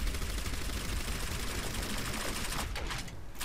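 Dense, continuous gunfire from Overwatch with rapid bursts blending into a steady roar, loud and close throughout, with no voices.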